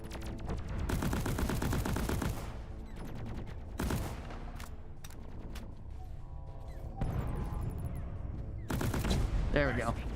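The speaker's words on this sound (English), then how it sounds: "I can just shoot through the ground" Rapid gunfire from a first-person co-op shooter, Deep Rock Galactic, fired down into the ground on a hazard 5 mission, comes in dense loud bursts with crashing impacts and game effects layered through.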